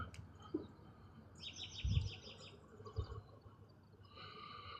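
Birds chirp and sing faintly outdoors in short high twittering phrases, with soft low thumps and rustles nearby and no talking.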